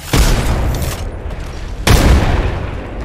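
A frag grenade going off in a first-person shooter, two loud close booms about two seconds apart with rumbling tails, no speech over them.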